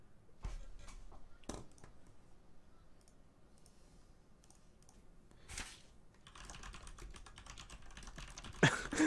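Clattering keyboard typing, scattered clicks early then a dense burst of rapid keystrokes toward the end, fairly quiet and close.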